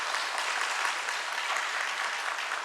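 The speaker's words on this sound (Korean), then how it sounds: "나 나올 때는 좀 박수 좀 쳐주셔" A church congregation claps during a Sunday worship service, a dense, steady wash of applause filling the room for a few seconds with no pauses.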